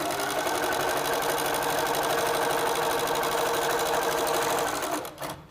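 A Little Rebel sewing machine stitches through quilt half-square triangles, a loud continuous mechanical hum and rapid needle chatter running steadily for about five seconds before it stops.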